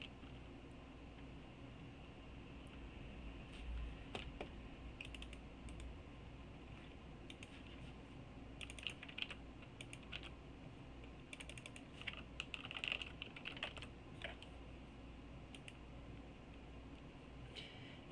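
Quiet, steady keystrokes on a computer keyboard as a username and password are entered, light irregular clicks in bursts over a faint background hiss, with no talking.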